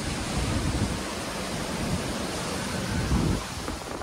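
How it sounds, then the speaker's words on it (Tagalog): Large storm waves roll in the Gulf of Mexico ahead of an approaching hurricane, a dense, steady roar of surf and wind with no voices. "Sa Gulf of Mexico, umabot sa halos 30 talampakan ng alon habang papalapit ang bagyo sa lupa."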